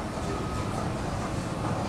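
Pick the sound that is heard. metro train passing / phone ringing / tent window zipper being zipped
metro train passing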